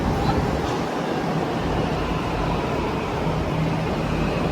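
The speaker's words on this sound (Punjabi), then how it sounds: "ਲੋ ਜੀ ਮੈਟਰੋ ਆ ਗਈ ਹੁਣ ਮੇਰੀ" A steady, loud rumble of a metro train pulling into a platform, a continuous roar with no pauses.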